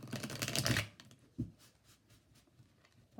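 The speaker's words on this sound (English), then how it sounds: "we'll do 3 shuffles right now" Tarot card deck being shuffled, a dense riffling burst up front followed by a single tap and scattered soft card flicks, quiet and close.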